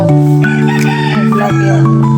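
A rooster crows loud and close in a rural provincial yard, its long rising call held with strong harmonic tones, a few faint background sounds beneath.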